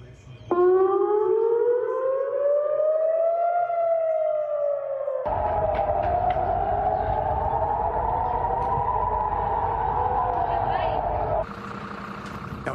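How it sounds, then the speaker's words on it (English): Air raid sirens wail across parts of Israel, a loud rising and falling civil defense tone that holds steady, then shifts to a second overlapping siren with a rumbling background. "air raid sirens started sounding across parts of Israel"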